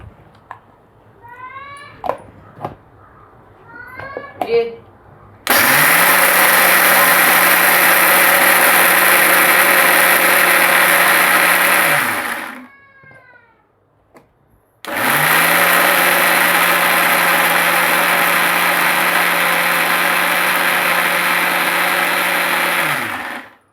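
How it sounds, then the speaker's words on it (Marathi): An electric mixer grinder whirs cooked horse gram in two long, loud, steady bursts separated by a short pause. A few faint chirpy noises come before the first run. "आपण ह्याला मिक्सरमध्ये बारीक करून घेऊया"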